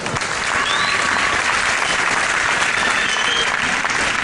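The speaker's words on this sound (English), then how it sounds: "So give them another big round of applause" A wrestling crowd in an arena gives a big round of applause, a dense, steady wash of clapping from many hands at full volume, sustained throughout with no speech over it.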